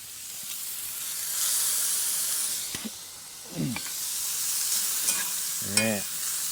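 Food sizzles steadily in a cast iron pan over a Pomoly Dweller Max 3 camping wood stove, a continuous frying hiss with occasional stirring scrapes and clinks.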